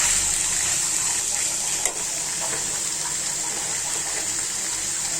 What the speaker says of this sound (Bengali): এবার আমি এটাকে একটু ভেজে নিব।